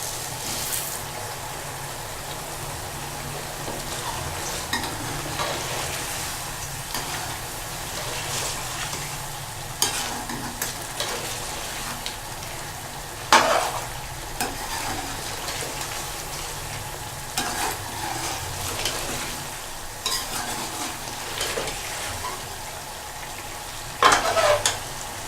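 Spice masala sautéing in a pan for restaurant-style chicken malai, a steady sizzle and fry hiss with intermittent scraping stirs and a few sharper clatters, close and continuous with no talk.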